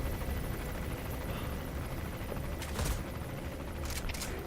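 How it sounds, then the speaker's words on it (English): Helicopter hovering low overhead in the video game Metal Gear Solid V, a steady loud broadband rotor roar filling the whole clip, with a couple of brief sharper bursts, no talking. "Oh my goodness, the helicopter's right over me."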